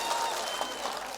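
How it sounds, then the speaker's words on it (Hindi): Dense applause from a crowd at a mushaira and seminar in Araria, Bihar, a steady wash of many hands clapping at moderate volume throughout. "तो एक बार जोरदार तालियों से उनका स्वागत करें"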